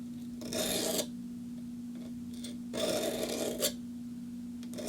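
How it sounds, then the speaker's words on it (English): A blade stropped on leather in two long, even rasping strokes with a pause between, close and fairly quiet over a steady low electrical hum. "stropping with the leather here"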